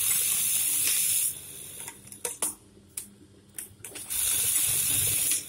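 A Brother 814-2 buttonhole sewing machine runs with a rapid mechanical whir and ratcheting clatter, pausing briefly in the middle for a few clicks and knocks before resuming at steady, moderate loudness.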